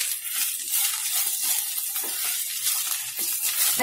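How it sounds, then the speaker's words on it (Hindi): Chopped okra being stirred into fried onions in a pan, a bright sizzling hiss with soft scraping stirs, close and continuous without any voices. "अच्छे से मिक्स करेंगे।"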